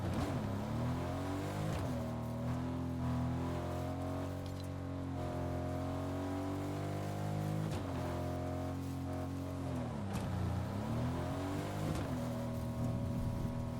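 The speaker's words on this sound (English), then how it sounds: "I think I am gonna take the car even though I have airbending" A car driven in Fortnite Zero Build, its engine droning and rising through gear changes with a few sharp dips as it slows and speeds up again, close and continuous, with no talking.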